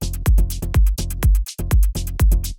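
In a melodic techno beat, a bright off-beat hi-hat ticks between heavy kick drums, the pattern looping quickly with loud, punchy lows and crisp high hits, steady and mixed with other percussion.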